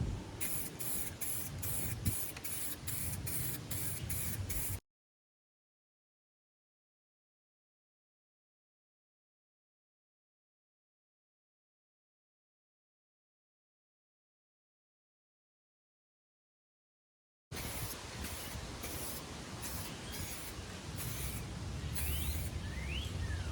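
A second coat of paint is spray-painted onto a Kia car door: a steady close hiss of the spray gun in pulsing bursts, then a long silent gap before the spraying resumes.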